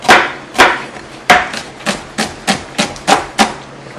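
A knife chops straight down through a vegetable on a board for Halloween cooking, about eight sharp, loud, evenly spaced thunks close by, with no voices.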